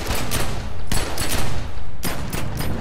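Rapid bursts of dual-pistol gunfire from The Secret World online game, firing in dense, loud volleys with short breaks between them, no voices present.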